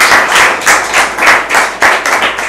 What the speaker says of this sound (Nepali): यसमै हामीलाई यो वार्तामा है उहाँलाई जोरदार ताली